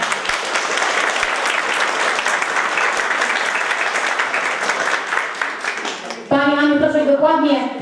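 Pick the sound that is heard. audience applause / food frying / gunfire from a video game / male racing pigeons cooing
audience applause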